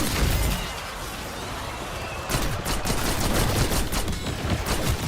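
Gunfire in the Black Ops 6 zombies video game, heavy continuous bursts and shots with explosive thumps, loud and dense throughout with a brief lull near the middle.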